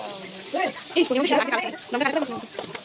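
Chili and turmeric powder tipped into hot oil for a chicken curry, giving a soft sizzle and frying crackle with a faint stir, partly under a voice.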